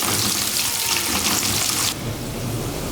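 Onion and garlic sizzle in a pan for a beef karahi, a loud, close, steady crackling fry that softens slightly partway through.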